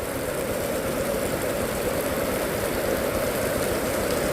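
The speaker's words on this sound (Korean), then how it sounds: "비가 내리고 있습니다." Steady evening rain falls outdoors in a garden, a constant dense hiss with no breaks, and no voices or other sounds over it.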